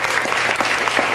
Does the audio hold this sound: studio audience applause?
yes